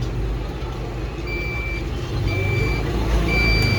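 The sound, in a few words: Deye hybrid inverter alarm beeping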